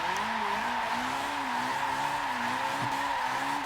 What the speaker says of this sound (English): the outside wheel is just scrubbing like hell